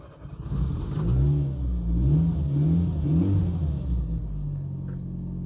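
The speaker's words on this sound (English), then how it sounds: "let's see if the car starts" A car engine catches after a jump start from a Vorsprung Power+ portable jump starter and then revs. It fires up with a short burst, then gives a few rising and falling revs close by before settling into a steady idle.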